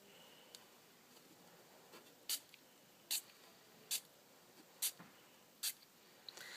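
Short bursts of Blushing Bride Smooch Spritz misted for a rub-on resist, about six quick hissing sprays spaced roughly a second apart, close and fairly quiet with no talking.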